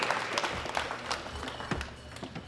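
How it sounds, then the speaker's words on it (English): An audience applauds at the 2018 World Classic Powerlifting Championships with scattered, moderately quiet clapping that rises at the start and then thins into uneven individual claps. "A round of applause."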